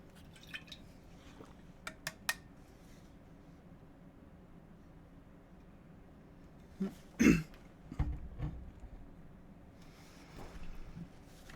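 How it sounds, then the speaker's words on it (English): A single person coughs and clears their throat, a few brief close bursts midway through, with small clicks and mouth sounds in an otherwise quiet room. "Apologize for my coughing."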